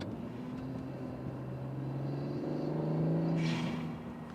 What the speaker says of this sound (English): that turbo whine is just beautiful